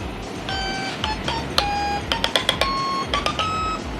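Stylophone, a small electronic stylus-played toy instrument, buzzing out short sustained notes and quick staccato taps at varying pitches, bright and close over a steady background hum.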